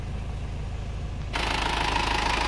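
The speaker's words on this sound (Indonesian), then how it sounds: "sekarang mesin ini sudah bisa menjadi rata." An old diesel engine, recently fitted with a thermostat and a reworked cooling system, idles with a low, even mechanical chugging that jumps abruptly louder and brighter partway through, then holds steady.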